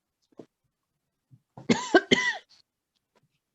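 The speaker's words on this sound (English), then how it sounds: "I don't know why I've got a cough" A couple of sharp coughs close to the microphone, followed by a short throat-clearing sound, with quiet pauses around them.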